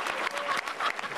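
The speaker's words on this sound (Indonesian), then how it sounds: "sekarang tepuk tangan untuk Bintang saja" A stand-up comedy audience claps for the comedian Bintang in a short, dense burst of applause that stays steady for its brief length.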